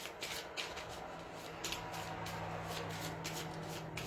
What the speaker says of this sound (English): I'm just going to shuffle up these cards